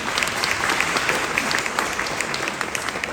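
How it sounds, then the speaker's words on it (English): An audience applauds representatives at a tourism department event with sustained, even clapping from a sizable crowd, continuous and fairly loud, with no voices over it. "Can we please give them a round of applause?"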